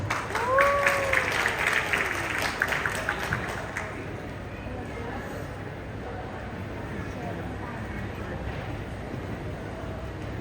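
Audience applause at an entrepreneurship talk in Indonesia, a spread of clapping that starts fuller under a speaking voice and thins to a softer, steady patter toward the end.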